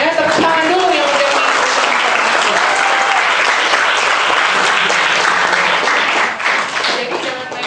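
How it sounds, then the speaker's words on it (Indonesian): Sustained applause from a lecture audience at a university public lecture fills the hall, dense and steady throughout, with some voices mixed in, tapering slightly at the end. "tepuk tangan dulu"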